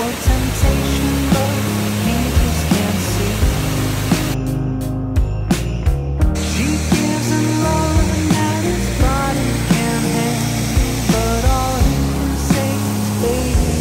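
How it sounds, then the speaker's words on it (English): A real waterfall rushes as a loud, broadband roar that holds steady throughout, with brief sharp clicks and some background sound layered over the constant flow. "This is the waterfall."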